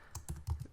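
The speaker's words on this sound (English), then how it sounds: "I'm just going to type out some words" Four quick, soft keystrokes tap out a short burst of typing on a computer keyboard. They are close but faint, with no voices.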